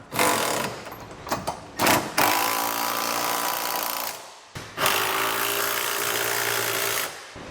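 Trailer hitch hardware on a Curt hitch receiver is driven tight with a 3/4 inch socket on a power tool, giving loud buzzing bursts of several seconds each, separated by short gaps.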